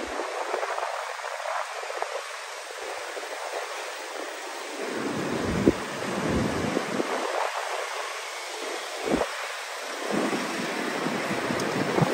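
Strong wind buffets the microphone in steady roaring gusts, with deeper low rumbles surging and fading throughout.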